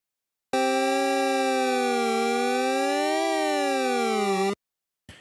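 A PG-8X software synth emulating the Roland JX-8P holds a bright, harmonically rich chord for about four seconds with slow, wavering vibrato on its upper note, then stops cleanly, with no talking.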